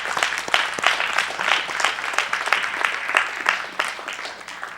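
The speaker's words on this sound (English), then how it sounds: "Give them a hand clap" A small audience at a livestreamed gathering gives a lively round of hand clapping, close and loud, with overlapping claps in a loose rhythm and brief bursts of crowd noise.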